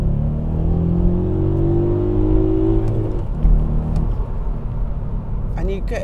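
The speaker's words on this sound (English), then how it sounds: "I'm just going to kind of drop it down to second gear and give it some beans." A VW Up GTI engine revs hard while accelerating in second gear, a rising harmonic drone that climbs for about three seconds before easing off, loud and close, with a brief voice near the end.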